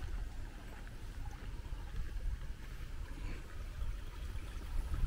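Water gushing steadily from a strong spring on a farm in rainy Bicol, a continuous low rushing wash with no breaks, close and moderately loud.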